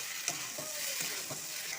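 Potatoes and kenduri (ivy gourd) sizzle softly in a pan with salt and turmeric, while a spatula stirs them in several distinct scraping strokes.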